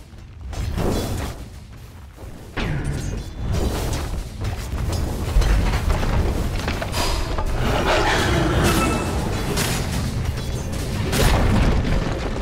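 A Dire top tower in Dota 2 under attack and collapsing: dense, continuous booming impacts and grinding mechanical crashes, loud and sustained throughout with sharp hits scattered over a low rumble.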